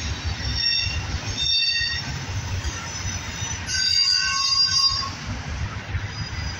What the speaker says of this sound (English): Never got that locomotive before.